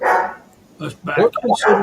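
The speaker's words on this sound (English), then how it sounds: "Pardon my dogs." Dogs barking indoors during a live stream, several sharp barks in quick succession close by, overlapping with someone talking.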